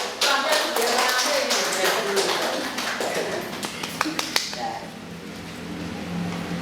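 Students clapping their hands in a junior high classroom, a burst of loose, uneven claps from a small group, close and fairly loud, that breaks into scattered single claps and fades, with faint voices around.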